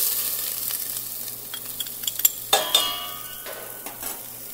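Onions, garlic, bell peppers and spices sizzle in a pan as the base of a red sauce, a moderate steady hiss broken by several clinks and scrapes of a utensil stirring.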